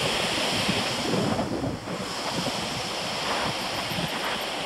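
The Louro river runs high and full of water, giving a loud, continuous rushing roar that stays steady from start to finish, with wind buffeting the microphone and no voices.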